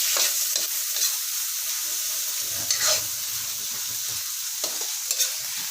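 Ground meat for Filipino pakbet sizzles and fries steadily in a pan, with occasional stirring scrapes and clinks cutting through the constant close hiss.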